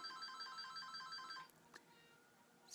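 A house telephone rings indoors with a steady, repeating electronic trill for about a second and a half, then cuts off, leaving a quiet room with a faint click.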